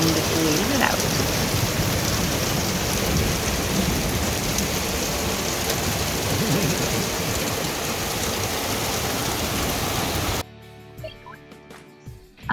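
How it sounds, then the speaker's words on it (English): Heavy rain pours steadily during a thunderstorm, with thunder rumbling now and then. It stays dense and close for about ten seconds, then cuts off suddenly to near quiet. "this one epic thunderstorm that hit right in the middle of our day"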